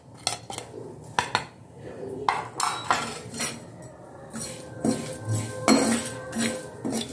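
Dabeli spice masala of coconut powder, garam masala, red chilli and turmeric dry-roasting in a pan, heard as irregular close clinks and scrapes of a metal spoon against the pan, with no one speaking.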